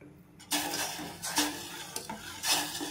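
Sugar and a cup of water heat in a pan for tea, giving a soft sizzle and bubbling with stirring scrapes and metallic clinks of a spoon against the pan, close and fairly quiet.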